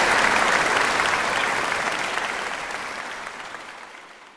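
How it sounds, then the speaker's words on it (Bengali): A conference audience applauds the arriving chief guest at a dealer conference, loud sustained clapping that gradually fades away. "ওনার জন্য একটা করতালি।"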